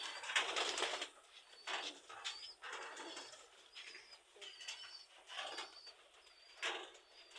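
Pigeons of several breeds penned for sale at a market give soft repeated coos and calls in short bursts, fairly close, with a few faint wing and handling sounds between them.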